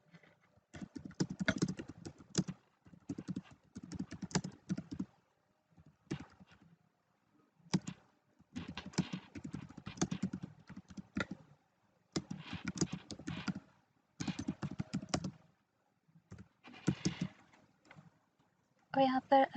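Typing on a computer keyboard in bursts of rapid clicky keystrokes separated by brief pauses, close and clear with no talking.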